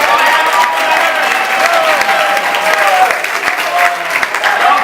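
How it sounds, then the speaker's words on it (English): Studio audience at a celebrity roast applauding and cheering loudly, a dense steady wash of clapping with crowd noise throughout. "Come on, let's cheer him on now"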